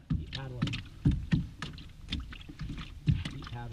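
Paddle strokes from a small boat on a pond during bass fishing, soft splashes and knocks recurring unevenly under voices talking close by.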